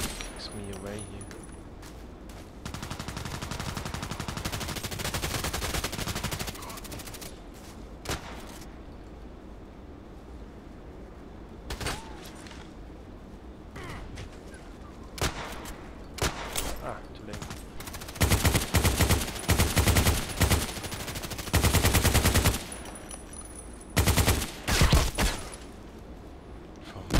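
Rapid bursts of machine gun fire in a first-person shooter match, crackling loudly in clustered volleys between quieter stretches of game ambience, with a voice speaking over parts of the action.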